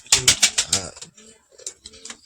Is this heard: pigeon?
yes